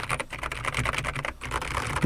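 Fast continuous typing on a Logitech G512 X 75 mechanical keyboard, dense close clacking keystrokes with brief pauses, loud and alone without talk.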